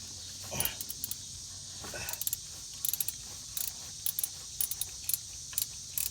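A 3/8-inch drive ratchet loosening a 5/8-inch bolt on a Dodge Ram engine during water pump removal, giving bursts of quick metallic clicks repeated in short strokes over a steady background hiss.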